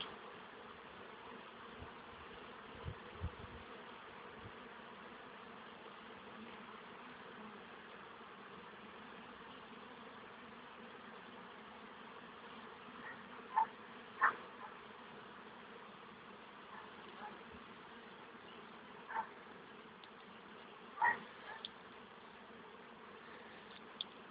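Honeybees at an apiary hum in a continuous, steady drone throughout, with a few faint clicks and taps now and then.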